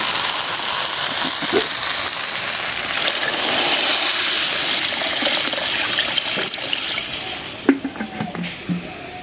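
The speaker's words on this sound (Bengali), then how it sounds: "এখন দিয়ে দেবো পানি।" Water being poured into a cooking pot of fried rice for bhuna khichuri, a steady rushing pour up close that tapers into a few splashes and drips near the end, with no speech.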